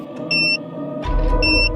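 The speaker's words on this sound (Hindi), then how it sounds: "हाँ, इसमें तो 15 मिनट का टाइमर लगा है" Electronic timer from a bomb hidden inside a bag beeps in two sustained high tones, each about a quarter second long, with a low rumble running underneath.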